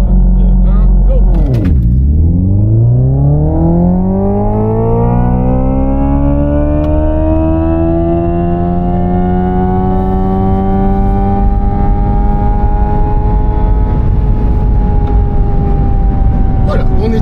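A Hyundai Ioniq 5 N electric car launches hard from standstill, its synthetic drive tone sweeping down then climbing steadily in pitch as it accelerates, loud and continuous throughout.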